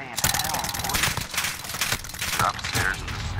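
Rapid automatic fire from an Uzi submachine gun in Call of Duty Modern Warfare (2019) multiplayer, a steady dense burst of shots running through the whole moment with game effects layered over it.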